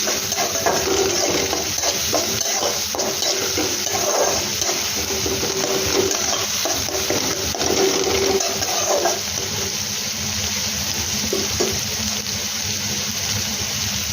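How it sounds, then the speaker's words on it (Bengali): Onions frying over medium heat in a pan for matar paneer, stirred continuously; a dense, steady sizzle runs throughout with scraping stir strokes layered on top, close and fairly loud, no talking. "সেই জন্য এটাকে ভালো করে এইভাবে নাড়াতে হবে"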